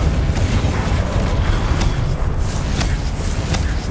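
A Confringo fire spell goes off in the video game Hogwarts Legacy, giving a close, rumbling boom with a fiery, crackling burst that fills the short moment.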